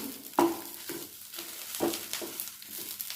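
Prawns frying in a pan for a Malayalam-style prawn chutney, with soft continuous sizzling behind a few sharp scraping stirs of a utensil against the pan, near and steady.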